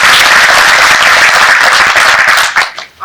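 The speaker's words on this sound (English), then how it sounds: "So give a round of applause for all of them." A conference audience at SIGGRAPH applauds the presenters of a Gaussian splatting standardization session, loud sustained clapping filling the hall before tapering off abruptly at the end.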